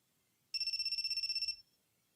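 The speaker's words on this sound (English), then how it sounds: "Oh, the phone." A phone ringtone from the visual novel game Amnesia: Memories: a single bright electronic trill, rapidly pulsing for about a second, clear and alone against near silence.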